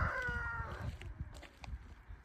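Chickens and ducks in a backyard with apple trees and grapevines, clucking and calling near the start, then quieter shuffling and scattered footsteps, fairly close.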